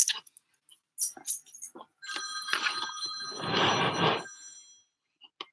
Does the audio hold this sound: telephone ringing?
yes